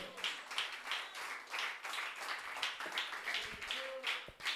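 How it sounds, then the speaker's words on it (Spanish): A church congregation claps together in steady, dense applause, a crowd of hands beating at a lively pace for the whole stretch. "denle un aplauso, denle un aplauso para el Señor"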